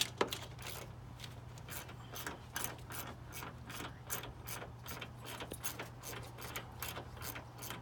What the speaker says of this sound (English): always hand start them, and then go at them with your socket wrench